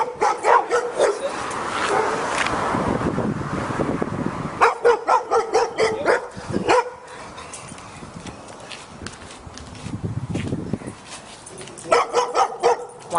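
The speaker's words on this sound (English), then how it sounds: "Wild dogs." Several dogs bark in bursts across the scene, with some clopping and scuffling sounds between the barks and a lively indoor or yard atmosphere.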